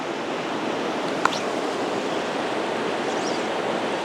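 A small river in the Western Cascades flows steadily nearby, a continuous broadband rush of water with no pauses and no voices.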